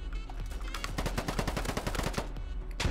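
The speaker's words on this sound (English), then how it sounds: "It's a carbine. It's like a mix between an assault rifle and an SMG." Rapid carbine gunfire in the video game Polygon, a continuous burst of sharp, evenly spaced shots lasting a couple of seconds, with a few isolated shots at the start and end.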